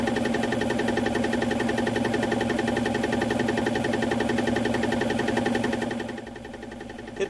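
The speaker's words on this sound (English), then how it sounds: "This is the sound of the normal RO unit working." A Village Marine Little Wonder 250 reverse osmosis water maker runs aboard a boat in the aft cabin, giving a loud, steady mechanical drone with a pulsing rhythm and a whine. Near the end it drops abruptly to a quieter hum, and no one speaks.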